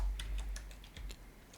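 Someone types on a computer keyboard, a quick run of light, crisp key clicks at an uneven pace, close and moderately loud over a faint low hum, with no talk.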